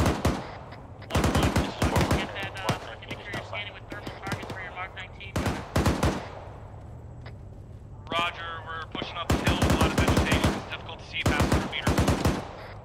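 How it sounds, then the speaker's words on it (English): Mark 19 grenade launcher fire in the ArmA 3 video game: repeated loud bursts of rapid automatic shots in clusters, with voices talking over the gunfire between salvos. "I need that Mark 19 to stop firing."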